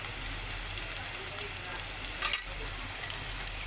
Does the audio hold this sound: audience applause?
no